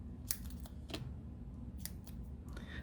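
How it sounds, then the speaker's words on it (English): Scissors snipping a piece of foam tape close by, several quick, quiet crisp cuts in an irregular rhythm over a low background hum, with no voices. "I'm just going to cut a piece of foam tape."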